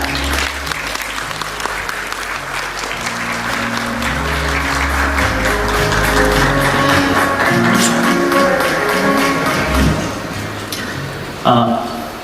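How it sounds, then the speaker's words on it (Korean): An audience at a tech summit applauds with sustained, dense clapping that swells then fades out, with a voice talking over it near the end. "이렇게 영상으로 박수 부탁드리겠습니다"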